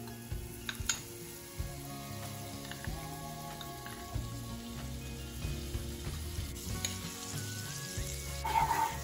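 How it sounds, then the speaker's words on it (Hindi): Butter sizzles and crackles steadily in a hot kadai, with occasional soft clinks and stirring sounds close by. "अब हम इस कढ़ाई में बटर को डालेंगे।"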